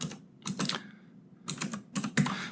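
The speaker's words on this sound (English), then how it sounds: "The typing is probably a little bit loud." Keys clatter on a mechanical keyboard in quick clustered bursts separated by brief pauses, close and fairly crisp, with no voices.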